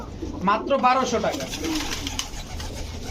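Moyna Dobash pigeons, a red-eyed Chuithal pair, coo softly in a few rolling phrases near the start while someone talks steadily over them.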